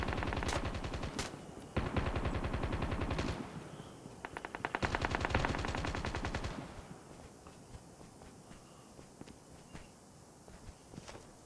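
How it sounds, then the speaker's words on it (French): Automatic gunfire in the mobile battle royale game Call of Duty Mobile rattles in long rapid bursts, then gives way to scattered single shots and footsteps, with a little game music in the background. "je sens qu'il y a quelqu'un qui me tire dessus"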